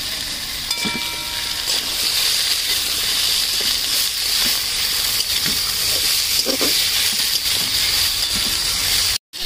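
Pumpkin pieces drop into a hot pan beside cut potatoes, setting off a steady loud sizzle and hiss with a few stirring scrapes, ending abruptly.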